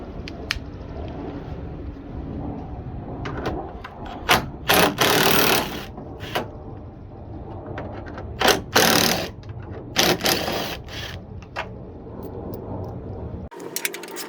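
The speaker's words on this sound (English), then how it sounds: "thing you want to do is remove these two screws" Screws are taken out during a headlight install on a car, giving a sequence of sharp metallic clicks, rattles and tool scrapes at close range, irregular and separated by quieter gaps.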